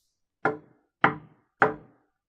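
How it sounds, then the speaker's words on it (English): Three evenly spaced knocks on a door in a quiet room, each sharp and close, with short pauses between them and nothing else heard. "A knock on the door"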